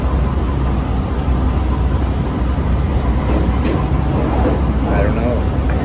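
A train ride in Japan, with a steady, loud rumble of the rolling carriage and faint rail rattle filling the whole stretch as a continuous interior drone, no voices over it.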